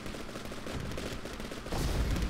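Artillery tanks fire in a war strategy video game, a dense, continuous barrage of booming shots and rumbling explosions that swells louder near the end.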